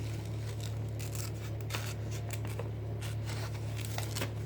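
Small embroidery scissors snip through paper in a quick irregular series of crisp close cuts over a steady low electrical hum.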